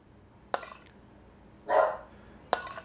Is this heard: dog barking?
yes